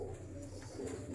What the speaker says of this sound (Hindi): ये है जी टैडी कबूतर, नायाब टैडी कबूतर